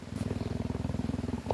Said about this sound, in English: Oh, you can hear the purring.